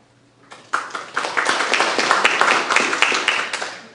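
After a brief quiet start, audience applause breaks out at a social media talk, a cluster of individual claps building into a moderate, lively round that keeps going to the end.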